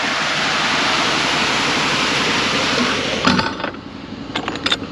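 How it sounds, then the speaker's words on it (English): Water rushes out in a loud, steady broadband hiss after a choke is opened, then drops off into lighter splashing and a few clicks and knocks. "choke off, let the water go"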